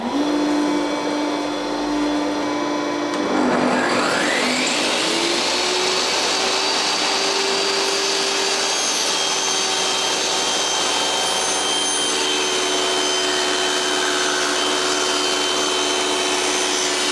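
A table saw spins up and runs steadily ready to cut 2 centimeter stock, its motor rising in pitch to a loud, constant whine that holds for the rest of the clip.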